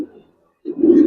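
Pigeons of old Giribaz and silver breeds coo at a pigeon fair, with a soft low coo, a brief pause, then a louder close coo.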